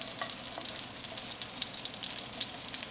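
Mushrooms cooking with risotto rice in a pan, giving a bright, steady sizzle with light stirring scrapes, close and fairly quiet.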